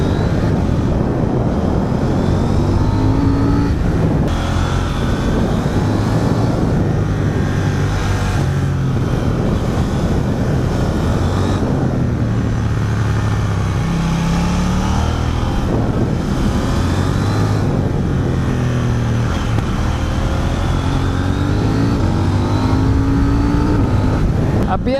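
A KTM 790 Duke twin-cylinder motorcycle engine under way, loud and continuous with rising and falling revs through gear changes, a rough, gravelly tone mixed with steady wind rush.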